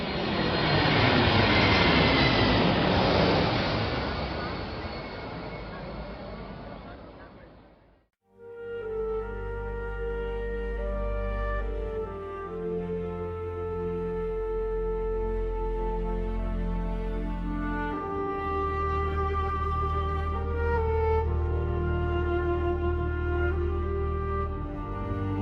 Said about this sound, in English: planes started to pass directly overhead, in a full, rolling thunder that filled the sky, and then moved on